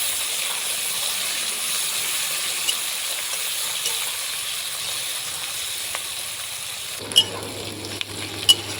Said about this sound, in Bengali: বড় সাইজের দুটো পেঁয়াজ কেটে রেখেছি দিয়ে দিব ভালোভাবে নেড়ে চেড়ে দেবো